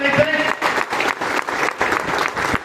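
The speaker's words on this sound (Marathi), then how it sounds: "सर्वांनी जोरदार टाळ्या वाजवून" An audience applauds loudly to welcome Narendra Patil, chairman of the Annasaheb Patil corporation, at a public gathering. The clapping is thick and continuous, swelling in waves, with a voice faintly present in the background.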